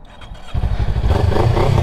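A Kawasaki Ninja 400 motorcycle starting up: a short, quiet crank, then the engine catches into a loud, close, steady rumbling idle.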